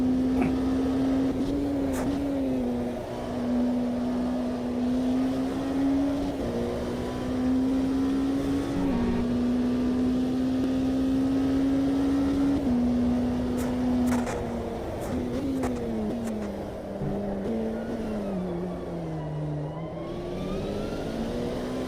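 A race car in the Automobilista 2 sim racing game gives off a steady high transmission whine under engine drone, rising and falling in pitch through gear changes and corners across a long, continuous run.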